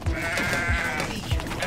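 A goat in the video game Goat Simulator 3 bleats in a wavering, nasal cry over a busy game soundtrack, with soft low thumps recurring at a steady pace beneath it.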